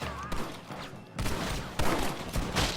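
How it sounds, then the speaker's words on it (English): Shotgun blasts fired from somewhere above, coming as a couple of loud, sharp reports with a burst near the middle, heard through a busy background. "Somebody up there with a shotgun."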